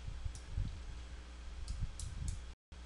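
Calculator buttons pressed while running statistical tests, a few sharp, light clicks spaced irregularly over a low, muffled background rumble, close and without talk.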